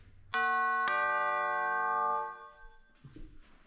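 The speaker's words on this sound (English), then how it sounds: "Chimes." A doorbell ding-dong struck on orchestral chimes: two bright metallic strikes, the second following half a second after the first, ringing with rich overtones and a long sustain that fades out, with a little faint noise afterward.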